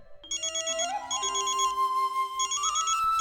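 A phone ringtone plays a bright repeating electronic melody, clear and close, with no voices over it.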